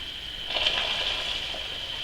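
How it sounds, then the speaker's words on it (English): Water poured into hot honey while making cinnamon mead gives a steady, close hiss and gush, with a slightly louder splashing burst partway through and no talking. "We can add more and more water in."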